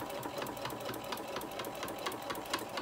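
A sewing machine stitches slowly through thick stacked fabric layers for a craft bag, a steady, even mechanical chatter with regular needle beats, close but fairly quiet.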